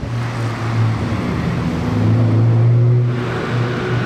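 The V12 of a Lamborghini Aventador SVJ revs in a loud, steady rumbling drone that swells and rises in pitch midway before easing back, with no talking.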